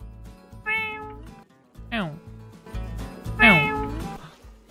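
A person mimics a cat's meow with their voice, producing several short, bright meow-like calls spaced irregularly across the clip, fairly close and clear, with bits of speech between them.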